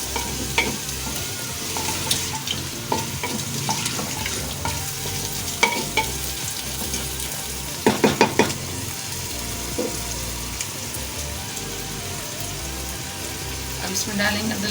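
Chopped tinda (round gourd) and meat frying in a pan for tinday gosht, a continuous loud sizzle with scraping stirs and a few sharp spoon knocks against the pan.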